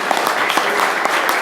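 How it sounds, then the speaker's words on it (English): A room full of people at a rugby league club's sponsors auction night applauds, a dense steady patter of clapping that holds through the whole short stretch. "Give a nice round of applause, please."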